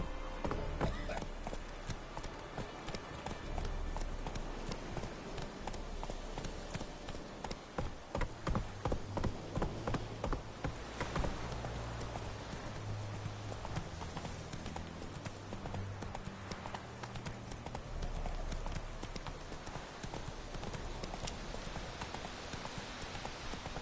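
Horse hooves gallop at a steady clip-clop rhythm in The Witcher 3 video game, loud and close, continuing throughout with a brief voice calling out.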